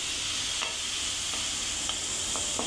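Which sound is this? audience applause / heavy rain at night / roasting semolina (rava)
roasting semolina (rava)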